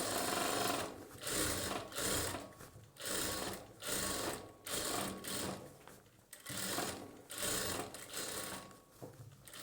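Sewing machine stitching a churidar bottom with a double reverse stitch, close and clear, running in repeated short bursts with brief pauses between them.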